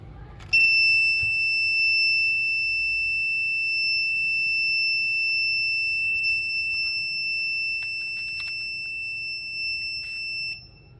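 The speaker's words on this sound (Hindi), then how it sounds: "जैसे ही हमारा गैस सेंसर गैस को डिटेक्ट करता है तो एलईडी भी ऑन हो जाती है और बज़र भी ऑन हो जाता है" An Arduino buzzer alarm, set off by an MQ gas sensor, sounds one continuous high-pitched electronic tone that holds steady for about ten seconds before cutting off, with faint handling noise underneath.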